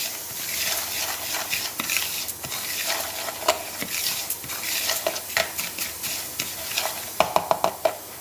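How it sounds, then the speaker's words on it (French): Millet stirred with olive oil in a pan, a steady soft hiss and scraping with repeated spoon clicks against the pot, growing into sharper taps near the end; no talking. "je mets un peu d'huile d'olive et je vais mélanger tout ça pour qu'il y en ait partout"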